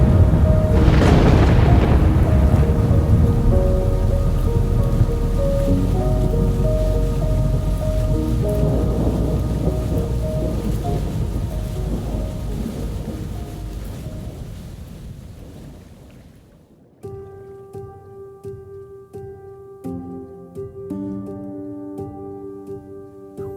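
Catatumbo lightning storm over a lake: a big rolling thunder crash opens over steady heavy rain, the rumble slowly fading, then music takes over in the final stretch.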